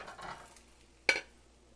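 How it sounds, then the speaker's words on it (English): A frying pan jerked toward the cook while making a French omelette gives one sharp scraping clatter midway, after a soft stirring rustle, close and brief. "It's really jerking that pan towards you"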